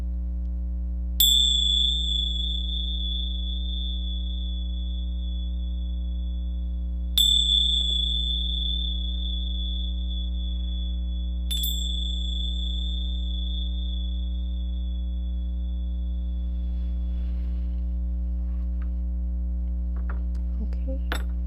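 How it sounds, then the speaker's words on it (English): Bells struck three times at spaced intervals, each a bright ringing strike that decays slowly over a steady low hum, during a full moon goddess meditation session. "I will be ringing these bells 3 times"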